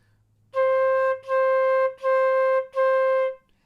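A flute plays four steady, even notes on C, each tongued apart, after a brief low hum, with nothing else playing.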